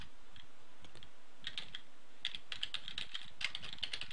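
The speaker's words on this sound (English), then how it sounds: "Gotta type that slow so I don't mess it up." Slow, unhurried typing on a computer keyboard during Java coding, with separate clicky keystrokes coming in irregular bursts that are close and fairly quiet, with short pauses in between.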